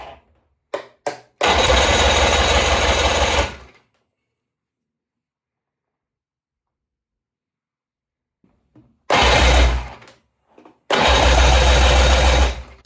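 A 3-cylinder Volvo Penta marine engine cranks over during a compression check in several loud, close bursts of rhythmic churning, with long silent gaps between them.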